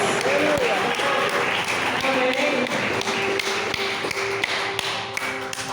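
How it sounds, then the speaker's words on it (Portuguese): A church congregation claps for Jesus during a service, a loud, rhythmic stream of hand claps with sharp taps, while voices carry over it. "Palmas para Jesus."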